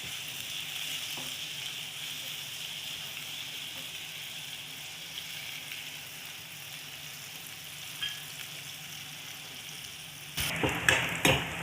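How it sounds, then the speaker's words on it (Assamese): Nutrela soya chunks, salted, fry in oil with a soft, steady sizzle, close and quiet, ending in a few sharp stirring clinks and scrapes. "এয়া চাওক নিউটেলাখিনি ভালকৈ ভজা হৈ গ'ল"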